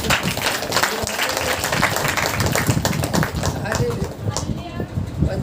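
A church congregation at a prayer meeting claps hands in praise, a dense and continuous roar of many hands, loud throughout with voices mixed in.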